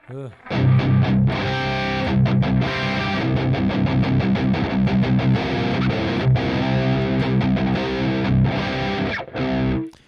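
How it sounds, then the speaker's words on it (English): Open-string chords strummed on an electric guitar through heavy distortion ring out loud and dense, each crunchy strum sustaining and overlapping the next, with a few brief gaps between bursts. "When I play chords with distortion, open string chords."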